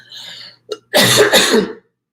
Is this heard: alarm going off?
no